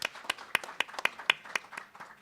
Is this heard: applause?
yes